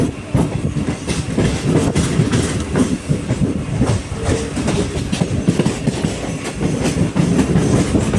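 A Mumbai local train rumbles loudly along the tracks nearby, with continuous clattering of wheels over rail joints.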